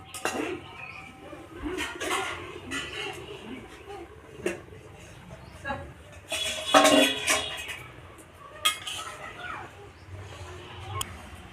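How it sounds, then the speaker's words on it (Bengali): A metal lid comes off a pot of simmering goat meat curry, giving a few clanks and clinks with a louder scrape near the middle, over a soft kitchen background and a faint voice. "এবার আমি ঢাকাটাকে খুলে নেব"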